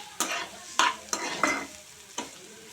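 Chopped onions with spices and curry leaves stirring in a hot pan for a tempered curd dish, with five distinct scraping stirs over a soft steady sizzle, close and moderately loud, no voices.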